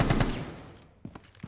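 Full-auto fire from Castle's gun fitted with a flash hider in Rainbow Six Siege: a short rapid burst of loud, close shots at the start, then a few scattered sharp reports after a brief lull.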